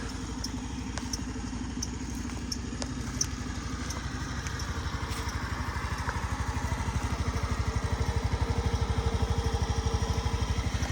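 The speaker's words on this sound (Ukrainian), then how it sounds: "Тихенько, якісно працює взагалі адрес" A 2017 Suzuki Address V125 scooter engine idles steadily close by, an even, continuous low putter that rises slightly toward the end, with faint clicks over it.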